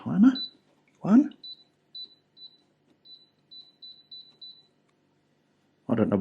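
Series of short, thin electronic beeps from a humidifier's control panel as its timer is set, about ten spaced single beeps, close and fairly clear, with a voice speaking just before and after them.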